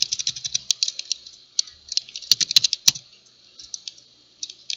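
Rapid, bright keystrokes typed on a computer keyboard during database search work, with a few sharper, heavier key presses standing out near the middle, close and dry with no voice.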